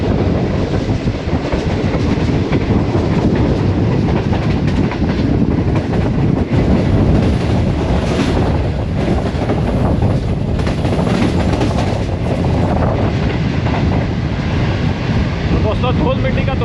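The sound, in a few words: Green Line express train passing Harappa station at speed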